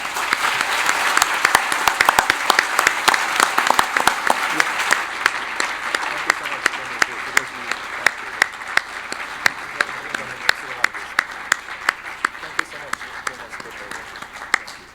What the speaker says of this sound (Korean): 그래서 그런 모든 그 감사하는 마음을 모아서 큰 박수를 한번 보내주십시다.